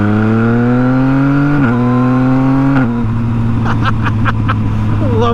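A tuned 2017 Yamaha FZ-09 motorcycle accelerates with rising engine pitch, cut by quick-shifter gear changes that briefly drop the tone, followed by sharp crackles and pops from the exhaust.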